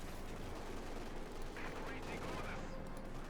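Company of Heroes 2 battle with an anti-tank gun firing on a Panther tank: a dense, continuous wash of distant gunfire and explosions under a steady rumble, fairly faint with no single shot standing out.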